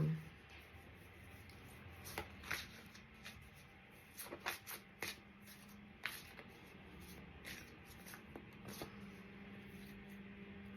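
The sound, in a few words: tarot cards being handled and shuffled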